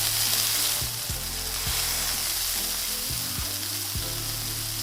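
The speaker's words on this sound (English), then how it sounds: "You can see the pan is nice and sizzling" Meatballs and onions sizzle steadily in hot oil in a pan, a constant close frying hiss with a few soft knocks and scrapes as the food is moved around.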